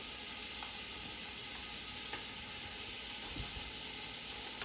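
Chicken pieces with cayenne pepper and garlic powder sizzle steadily in a pot, a continuous close frying hiss with faint occasional stirring knocks.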